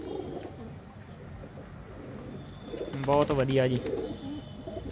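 Pigeons coo in a short burst of low, rolling calls near the microphone, with someone speaking over them and softer background chatter.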